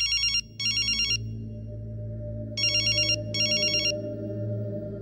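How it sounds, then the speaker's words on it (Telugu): A telephone rings in two-burst electronic trills, two rings separated by a pause, left unanswered over a low rumbling background in a Telugu action film fight scene. "ఫోన్ ఎత్తడేట్రా?"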